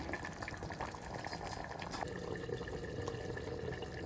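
Mutton curry boiling in a covered pot, a soft continuous bubbling simmer that stays steady throughout.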